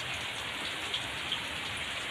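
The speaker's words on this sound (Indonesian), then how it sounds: "Hujan lebat." Heavy rain falls steadily during a thunderstorm over a hut in the middle of rice fields, a dense, even hiss of drops close by with no voices.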